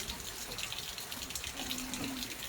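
Water from a natural spring pours steadily into a swimming pool, a continuous close splashing rush with no talk.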